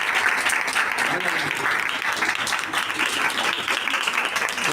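Sustained applause fills the hall at a Blind Persons Association ceremony marking Louis Braille's 216th birth anniversary, a steady wash of clapping with speech running over it.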